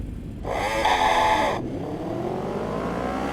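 Racing motorcycle engine in the RIMS Racing video game, a loud high-pitched rising rev that holds briefly, then drops back to a steady droning engine hum for the rest of the stretch, no voices.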